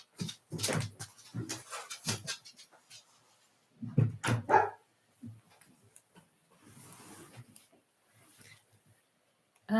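A dog barks in short bursts and whimpers indoors as someone arrives home, with irregular yips followed by softer whines and quiet gaps.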